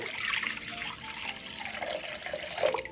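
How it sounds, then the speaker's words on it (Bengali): Water poured from a tap or vessel into a wok set on a gas stove, a continuous close splashing gurgle with small drips and a brief swell near the end. "এবার দিয়ে দেবো কড়ার মধ্যে অনেকটা জল"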